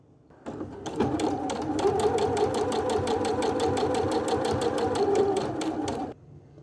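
A sewing machine topstitches a 1 mm seam along a fabric edge, running at an even, rapid mechanical rhythm with close, steady needle clatter for about five seconds after a brief start-up, then stopping.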